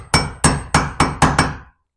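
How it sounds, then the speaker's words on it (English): A roofing hammer strikes a chisel six times while mortising for a door strike plate, sharp close metallic blows in a steady rhythm that then stop. "I'm using my roofing hammer because it's lighter"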